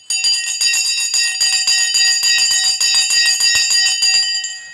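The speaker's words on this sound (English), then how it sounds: "The Sensei bell has been rung." A bell rings out in a rapid, steady series of loud, bright strikes for about four seconds, its ringing tones sustained between hits and fading briefly at the end.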